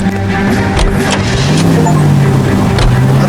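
A car pulling away in the video game L.A. Noire, a loud steady engine drone and rumble that holds throughout with slight shifts in pitch and no speech over it.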